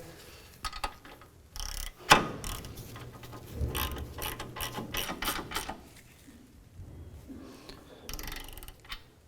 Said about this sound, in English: So now we'll go ahead and install the nut on top. We'll tighten that down.